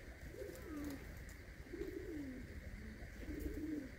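Pet pigeons coo in three soft, rolling phrases, close by and fairly quiet against a faint steady hum.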